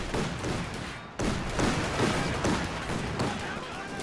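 Bazooka shots and battle fire in the video game Company of Heroes 2, a sharp thump after a brief lull followed by scattered crackling gunfire and distant blasts, with a voice talking over the din.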